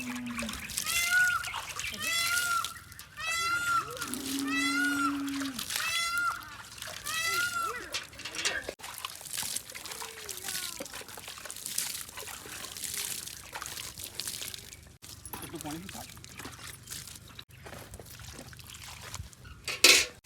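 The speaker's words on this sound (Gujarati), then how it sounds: "અહીંયાથી પાણી ભરવાનું ચાલુ છે" Water splashes and trickles into containers as they are filled to carry off for watering newly planted trees in the rain, mostly under lively talk from adults and children.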